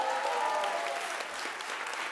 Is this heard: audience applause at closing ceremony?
yes